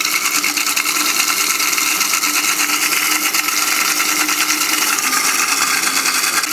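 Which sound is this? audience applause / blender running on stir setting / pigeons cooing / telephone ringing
blender running on stir setting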